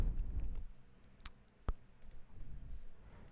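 A computer mouse clicks twice, sharp and quick, while someone toggles the Smart Guides setting from a View menu. The clicks are close, quiet and isolated against soft background noise.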